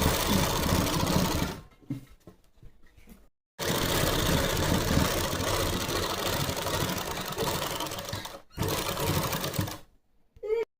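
A sewing machine stitches a pocket onto palazzo pants in close, steady bursts of rapid whirring, broken by short pauses as the fabric is adjusted.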